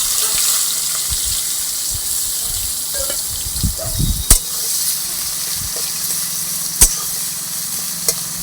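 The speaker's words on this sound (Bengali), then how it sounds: "পেঁয়াজগুলো ভেজে নেব" Onions fry in a pan with cumin, making a soft continuous sizzle, punctuated by a few sharp clicks and scraping knocks of a utensil, with some watery gurgling in the middle.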